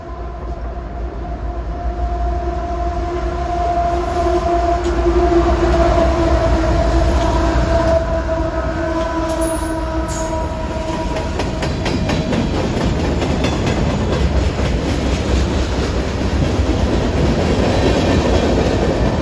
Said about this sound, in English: Here comes a CSX freight.